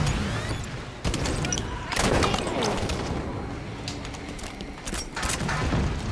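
Automatic SAW rifle fire in the Halo 5 Warzone multiplayer game, with dense bursts of rapid shots and booming impacts crackling throughout amid chaotic battle noise, fairly loud and close.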